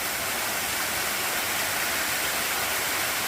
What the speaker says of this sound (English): Really good water flowing right now.